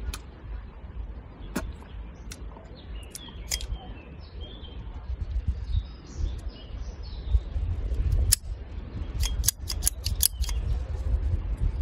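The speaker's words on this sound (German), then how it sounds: "Jetzt schneide ich sie einfach mal an." A cigar cutter snips the cap of a Perdomo Lot 23 Churchill cigar. Several sharp, close clicks and snips sound over soft outdoor background noise.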